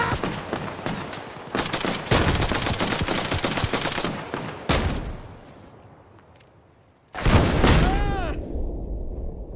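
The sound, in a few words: frag grenade explosions and gunfire in video game Arma Reforger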